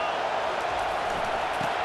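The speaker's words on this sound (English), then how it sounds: "this crowd is turning it up a notch." A college football stadium crowd at a Texas State versus Wisconsin game keeps up a dense, steady roar throughout, heard from a distance as broadcast ambience.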